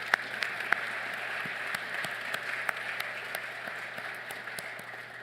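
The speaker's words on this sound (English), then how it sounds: "Let's give him another round of applause." An audience claps steadily after a talk at a business event, a soft, even patter that holds for the whole stretch with a few sharper individual claps standing out.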